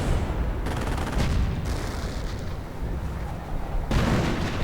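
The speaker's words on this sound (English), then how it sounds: "And mortar rounds continue to land." Mortar rounds land and explode in a World War II battle video game, a dense run of heavy booming blasts with rumbling artillery, one loud burst near the end, all without speech.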